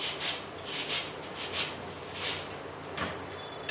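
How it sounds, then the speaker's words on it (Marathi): Potato rubbed lengthwise down a hand grater in long strokes, giving a repeated dry rasping scrape with soft regular bursts, close and moderately quiet. "एक किसणी घ्यायची आणि असं जेवढं लांब आपल्याला किसता येईल तेवढे किसून घ्यायचे"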